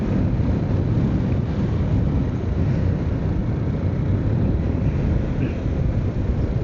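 Strong evening wind rushes past during a motorcycle ride, forming a steady, loud, low roar and buffeting across the whole stretch, with no clear engine detail above it.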